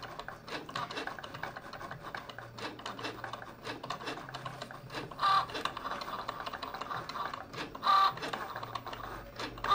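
A Cricut Joy cutting machine draws a gift tag with a pen, giving a faint continuous scratchy rasp with small mechanical whirs and a couple of brief high beeps, recorded close in a quiet room.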